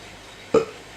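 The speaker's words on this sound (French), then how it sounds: "J'ai roté fort." A single loud, close burp bursts out midway through an otherwise quiet moment, short and throaty, rising abruptly and fading within a fraction of a second.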